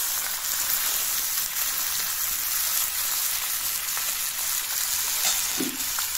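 Denga potatoes fry in a pan with a steady, close sizzle and crackle throughout, and a faint stir or scrape near the end.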